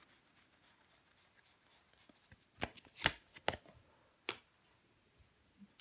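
Tarot cards are turned over and laid down on a table, giving a few quiet, crisp snaps and slaps close by, clustered in the middle with soft rustling around them and no talking.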